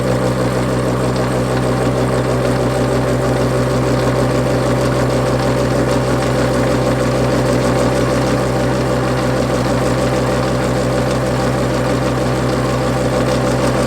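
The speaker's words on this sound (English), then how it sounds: "this is a finishing cut on this face. Doing about 380 RPM." A Warco metal lathe takes a slow finishing cut across a face at about 380 RPM, a loud, steady motor hum and whine with a continuous even drone throughout and no talking.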